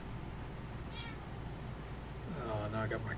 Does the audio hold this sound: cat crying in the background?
yes